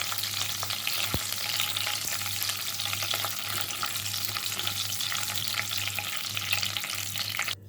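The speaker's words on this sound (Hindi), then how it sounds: "तो ये हल्के से हमने रोस्ट करने हैं ड्राई फ्रूट।" Dry fruits sizzle gently in ghee while being lightly roasted, a continuous soft frying crackle with occasional stirring scrapes and a sharp clink near the start.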